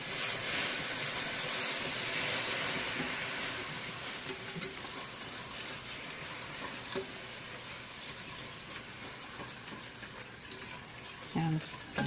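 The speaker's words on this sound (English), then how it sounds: "And I'm going to whisk." A whisk stirs a margarine-and-flour sauce in a pan while asparagus broth is added, steady close scraping and sizzling hiss throughout, with a few brief clinks near the end.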